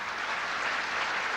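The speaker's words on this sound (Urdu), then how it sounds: "بھرپور تالیوں میں استقبال کیجئے" A mushaira audience applauds a poet being welcomed, a dense steady burst of clapping that fills the short stretch without pause.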